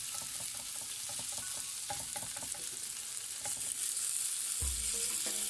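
Trabzon-style anchovy bread (hamsili ekmek) sizzles in a frying pan, a steady crackling fry with small pops and stirring scrapes, close up, then a thud near the end, and no one speaking.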